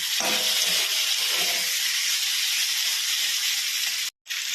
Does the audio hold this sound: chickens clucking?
no